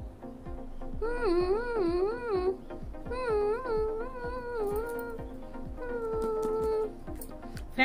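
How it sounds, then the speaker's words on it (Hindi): Three long, wavering meows follow one another, each drawn out and warbling, over a faint steady ticking in the background. "बिल्ली"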